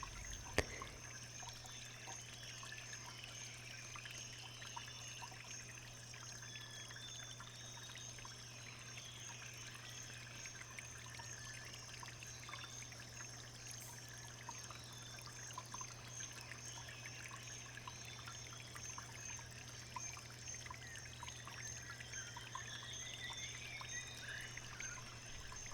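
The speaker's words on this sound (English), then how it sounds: "gave them a couple of full watering cans" Tomato and cucumber plants in a summer garden watered from a watering can on a hot, humid day: a soft, continuous trickle and pour of water, faint and steady, heard alone without speech.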